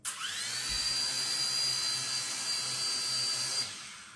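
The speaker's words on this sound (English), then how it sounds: "Let's just check all the propellers work." A small toy quadcopter drone, an H3 or E99 budget model, spins its propellers up with a rising whine that settles into a loud, steady high-pitched buzz up close before cutting off near the end.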